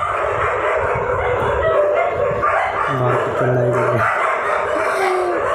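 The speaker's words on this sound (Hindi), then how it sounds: "ये 2 गली के कुत्ते लड़ते हैं आपस में यहाँ पे।" Two street dogs fighting in a lane, snarling, barking and howling over a constant background din, with a rooster crowing faintly in the mix.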